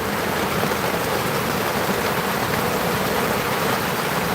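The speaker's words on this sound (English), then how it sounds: "And that rain is pretty damn cold." Steady outdoor rain pours as a dense, broadband hiss, constant and fairly loud throughout with no voices.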